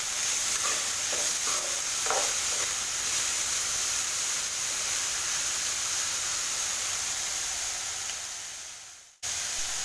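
Vegetables sautéing in hot oil in a pan, a steady loud sizzle and hiss running continuously with occasional stirring scrapes, cutting off abruptly near the end.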